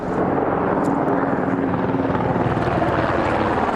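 Steady, loud helicopter rotor drone with a low rumbling thump, sustained throughout as it passes close overhead.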